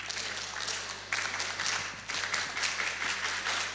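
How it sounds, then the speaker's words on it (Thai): A group claps together in the 3-3-7 rhythm, quick bursts of fairly faint, distant-sounding clapping in short groups separated by brief pauses. "ให้เราปรบมือ3 3 7นะ"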